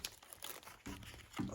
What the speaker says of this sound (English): I need to remove the masking tape before I can do the next bit